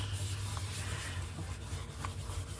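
A scrubby pad rubs the gloss off a board book in a continuous close scratchy scrubbing, soft and steady with faint strokes, over a low background hum.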